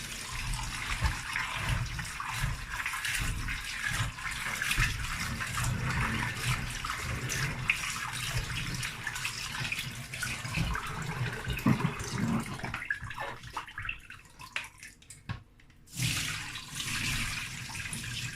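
Peeled beans are washed in a bowl or sink of water, with a continuous close splashing and swishing of water that cuts off briefly near the end before resuming, no talking.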